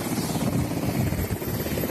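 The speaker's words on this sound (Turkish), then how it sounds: "Galiba polis helikopteri, Sikorsky gibi bir helikopter şu anda alana iniş yaptı." A Sikorsky-type police helicopter comes in to land at a busy aid site in Kahramanmaraş. Its rotor thump and turbine whine stay loud and steady throughout.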